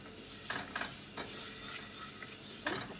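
Meat frying in a pot is stirred with a utensil, giving soft scraping strokes and a few sharp clinks over a faint, steady sizzle.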